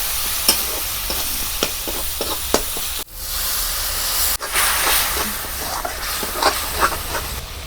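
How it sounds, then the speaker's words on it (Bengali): Masala of turmeric, cumin and a little coriander powder fries in a kadai for ghugni, with a steady sizzle and hiss broken by repeated scraping and knocking strokes as it is stirred; no voices. "ভালোভাবে মশলাটাকে কষিয়ে নিতে হবে।"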